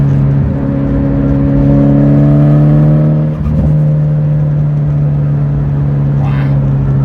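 A Nissan Pulsar GTiR engine drones loudly from close by, its pitch sliding as it revs and accelerates on back roads, easing briefly before pulling again.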